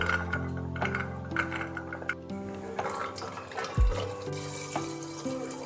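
Tap water running while soaked chickpeas (kabuli chana) are rinsed, with splashing and dripping over a steady flow and short tonal clinks, close and moderately loud.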